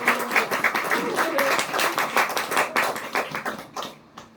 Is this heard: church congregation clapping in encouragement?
yes